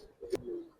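A single short coo from a Giribaz-type pigeon held at a bird seller's, one brief low throaty call rising out of soft background hiss.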